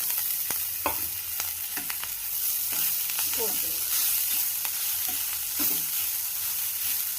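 Poha sizzles and fries in a pan with turmeric, a steady close crackle broken by repeated scraping stirs of a spoon, with no talk over it.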